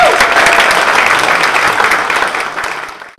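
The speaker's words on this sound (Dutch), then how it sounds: "Dus graag een applaus voor meneer Kant zelf." An audience applauds Mr. Kant at a soapbox-style talk, a loud, dense burst of clapping that holds steady for about three seconds and then quickly dies away.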